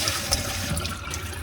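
Water runs steadily from a tap into a steel sink during cleaning and restoration, a close, continuous rushing splash that holds even across the whole stretch with no voices.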